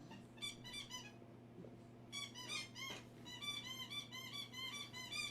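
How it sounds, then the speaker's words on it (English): A small creature chewing on something produces bursts of rapid high squeaks, repeated in clusters with a brief pause, close and clear over a low background hum. "As long as I hear that squeak, man, I'm happy because I know he's chewing up something that's legit."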